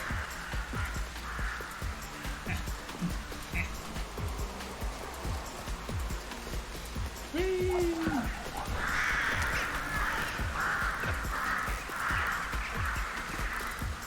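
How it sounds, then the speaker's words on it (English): Crows cawing in the video game Discovery: Liberated, a flock of harsh caws repeating in quick bursts, moderately distant over a rustling, rain-like ambient bed with game sounds. "A murder of crows."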